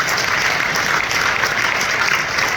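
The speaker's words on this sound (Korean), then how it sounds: "박수 한번 보내주십시오." Audience applause at a company compensation-plan presentation, a loud, dense and steady clapping from a large crowd filling the whole moment.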